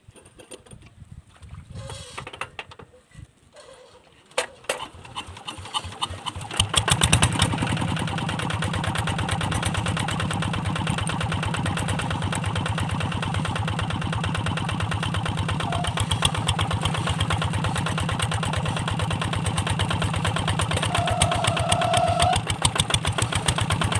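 A tractor engine stuck in muddy ground is started: after a few seconds of uneven cranking, it catches with a jump in level and settles into a loud, steady mechanical idle that runs for the rest of the clip.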